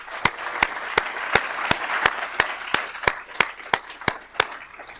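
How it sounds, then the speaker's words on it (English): A crowd at the 2023 Yale Clean Energy Conference applauds steadily, with a few louder, sharper claps standing out at a regular beat above the dense patter. "A little round of applause for the people who helped make this work."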